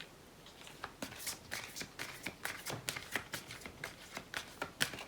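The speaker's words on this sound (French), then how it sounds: "Je tirais une carte" Close, quiet shuffling of a deck of cards for a card reading, with a steady run of crisp riffles and taps about every quarter second and no talk.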